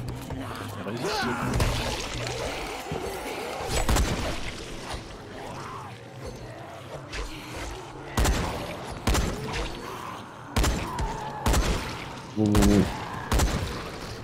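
Shots from a camouflage rifle in the game Dying Light, first sparse, then crowded into a quick string of sharp blasts near the end, over busy game ambience with crashing and shattering noises.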